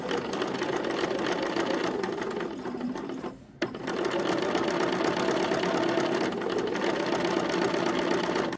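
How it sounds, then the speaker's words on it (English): A sewing machine stitches the hem around a dress front, running steadily and close for several seconds, pausing briefly near the middle, then continuing at an even speed. "I'm just going to sew around and stop a little bit before the side seam"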